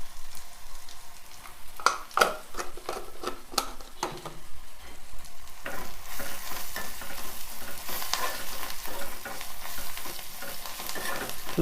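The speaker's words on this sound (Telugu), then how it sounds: "ఇట్లా పసుపు వేసుకొని మంచిగా మొత్తం కలిసేటట్టు ఇట్లా కలుపుకోవాలి." Tender tamarind leaves with salt and turmeric stirred in a frying pan, a continuous sizzle with irregular scraping and clinking spoon strokes close by, growing busier toward the end, without talk.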